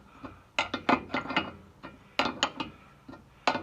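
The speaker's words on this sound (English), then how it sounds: "now I'm gonna start to tighten the clamps down." A wrench tightens the exhaust manifold clamps on a Caterpillar Sixty engine, producing close, irregular bursts of ratcheting clicks separated by short pauses.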